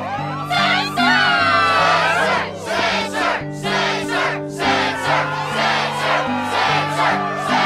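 Crowd cheering and shouting at the Struggle tournament in the Kingdom Hearts 2 video game, a loud sustained roar of many voices with rising whoops over a steady musical backing.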